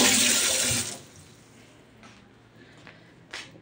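Tap water gushes loudly for about a second while something is washed, then stops, leaving faint drips and small clinks in a quiet room.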